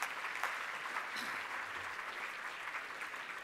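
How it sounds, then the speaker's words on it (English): Steady audience applause at a community awards ceremony, many hands clapping fairly far off and faint, unbroken for a few seconds. "So can we give them all a round of applause before I announce the winner?"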